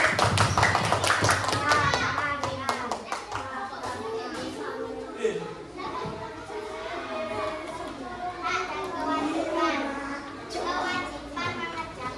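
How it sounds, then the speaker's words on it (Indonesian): Schoolchildren in a third-grade class clap for a classmate group, a brisk burst of rhythmic claps at the start giving way to scattered clapping under chatter and children's voices. "Kita tepuk tangan untuk kelompoknya Sabera."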